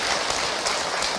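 Audience at an Islamic religious lecture by Ustaz Hilman applauds, a steady, dense wash of clapping filling the whole moment.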